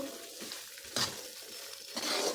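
Semolina being roasted in a pan over low heat, a dry rustling sizzle with periodic scraping strokes of the stirring spoon, close and fairly quiet, no voices.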